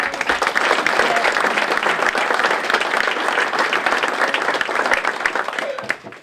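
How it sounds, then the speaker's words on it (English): A chamber of commerce dinner audience gives a sustained round of applause for its outgoing leader, many hands clapping steadily before the sound tapers off at the end. "So a round of applause for Dave."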